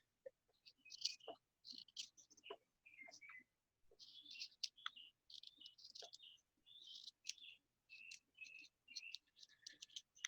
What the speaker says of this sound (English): Does anybody else have mockingbirds in their neighborhood?